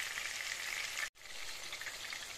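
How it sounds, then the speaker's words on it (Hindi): Peshawari chapli kebabs frying in a pan over medium heat, a steady close crackling sizzle with a momentary total dropout near the middle before it resumes. "आप अपने सारे कबाब ऐड कर दें। मीडियम हीट पे आपने इनको पकाना है,"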